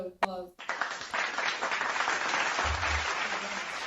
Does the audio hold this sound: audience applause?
yes